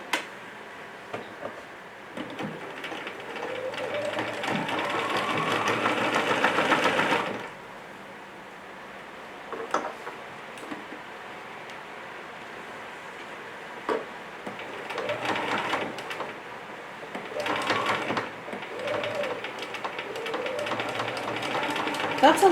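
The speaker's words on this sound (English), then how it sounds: "we're just going to stitch right on that line." A sewing machine runs a straight stitch through a thick layer of tablecloth fabric, with a steady whirring burst of several seconds, then shorter runs and clicks between pauses.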